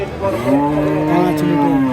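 A cow moos at a busy cattle market in Chapainawabganj, one long drawn-out low call held for nearly two seconds, close and loud over faint background crowd noise.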